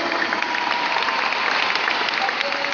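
A convention audience in Medellín applauds the Correa family and the diamond members present, producing dense, even clapping that holds at a steady level from start to finish.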